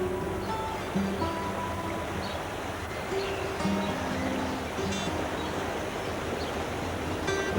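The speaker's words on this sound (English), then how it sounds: "We've seen some gardens with streams in this series, but never one as wide and fast-flowing as this one" Wide, fast-flowing stream running beneath the old fulling mill at Alresford in Hampshire, a steady broadband rush of water heard continuously, with faint musical tones layered over it and no talking.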